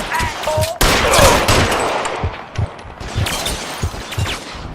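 Gunfire in the video game L.A. Noire: a dense fusillade of loud, rapid shots with echoing cracks and repeated bursts over a few seconds.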